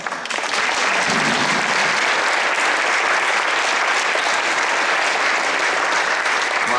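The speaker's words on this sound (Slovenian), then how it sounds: "za prisrčen aplavz dobrodošlice" Warm welcoming applause from a large audience at a New Year's reception in Ljutomer, a dense, loud, sustained wash of clapping that swells in quickly and holds steady throughout.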